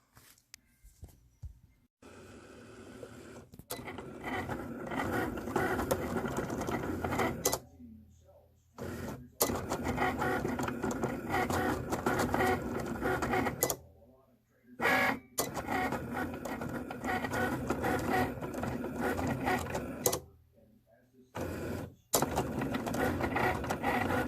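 Cricut cutting machine slicing through stretchy paint skins under plastic, with a mechanical whirring and carriage motion in repeated bursts separated by short pauses, close by, and talk heard in places.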